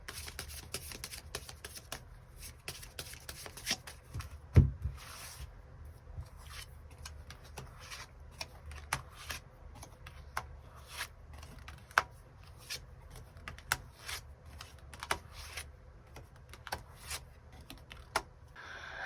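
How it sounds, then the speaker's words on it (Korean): Tarot cards shuffled by hand to draw extra cards: a dense run of soft close-up riffles, flicks and light ticks with a couple of sharper snaps. No one speaks. "카드 뽑아보도록 하겠습니다."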